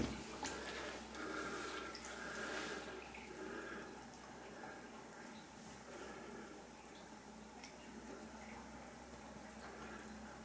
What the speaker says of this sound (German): Es fließt sehr gut ab.